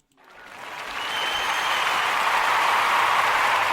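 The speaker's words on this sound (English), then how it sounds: "Give them a round of applause." An audience applauds the Kuumba babies, the clapping swelling from quiet within the first second into a steady, dense roar that holds loud to the end.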